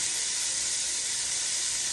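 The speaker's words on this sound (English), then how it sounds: "in the fat in the bottom of the pan, we're going to add our celery" Celery, onions and shallots go into the fat left in the pan after crisping shallots, over low-to-medium heat, giving a loud, steady, close sizzling hiss with no talking.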